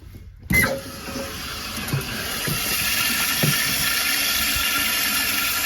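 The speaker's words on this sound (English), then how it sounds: "open up the water source and let the tank fill" A sudden whoosh gives way to a steady, loud rush of water filling the tank of a newly installed Kohler Highline toilet, continuing without pause.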